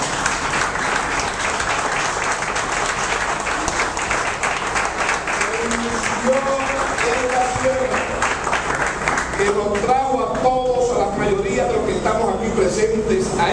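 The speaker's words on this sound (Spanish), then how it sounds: "quiero pedir un aplauso de pie para el compañero ausente Pedro Flores" Standing ovation at a political party's provincial office opening in Santo Domingo Este, honoring absent comrade Pedro Flores: dense, sustained crowd clapping for the whole stretch, loud and close, with voices talking and calling out over it in the latter half.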